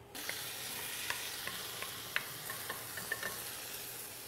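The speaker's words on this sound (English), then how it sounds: "then we're going to slip this right back into our pan" Spanish potato tortilla de patata frying in a pan, a soft, even sizzle rising sharply at the start, with a few faint ticks and pops, quiet and steady with no voices.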